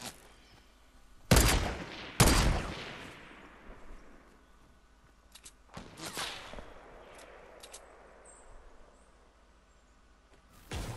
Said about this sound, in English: Where is he shooting from?